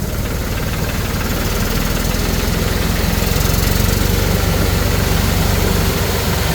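A tractor engine runs loud and steady nearby, a constant low throbbing rumble with no pauses throughout, in a flooded town area.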